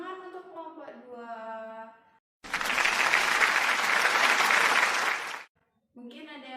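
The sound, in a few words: applause for group 2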